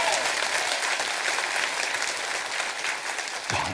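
A church congregation at a Friday worship service claps together in a steady, even roar of applause that stays level throughout, with a small shift near the end.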